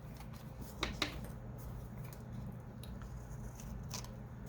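A few crisp paper snips of scissors trimming faux postage paper during Valentine crafting, two sharp cuts near the start and fainter trims later, close and quiet over a steady low hum.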